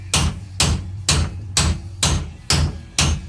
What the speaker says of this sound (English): and then just tap it in.